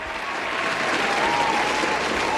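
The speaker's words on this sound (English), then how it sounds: "Hold for applause." Steady applause from a sizable crowd, dense clapping holding at even loudness throughout with no voices over it.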